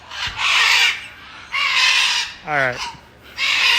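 Parrots at a bird park in Pigeon Forge, Tennessee screech in loud, harsh bursts: four raspy squawks spaced over a few seconds, fairly close, with a short voice briefly between them.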